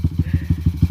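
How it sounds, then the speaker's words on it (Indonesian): A Suzuki Satria FU motorcycle fitted with Racingboy parts idles with a rapid, lumpy putter of regular pulses, loud and close, with no talking. "Sedikit gerung ya suara motor ya."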